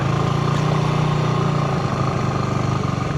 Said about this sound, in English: A little bit of back brake, keep the revs up, let the clutch out